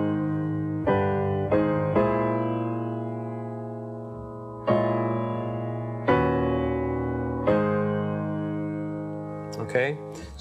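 A keyboard plays the opening four bars of a jazz ballad in plain, straight rhythm: sustained harmonic chords struck one after another, each ringing and fading before the next, clear and close with no talking.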